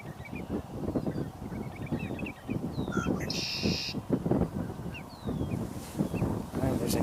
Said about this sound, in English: From our right, I hear the crows